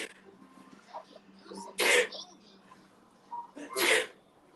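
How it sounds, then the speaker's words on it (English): Two sharp, loud sneezes about two seconds apart, close by, with faint talk and quiet background sounds between them. "Oh, I'm gonna sneeze too."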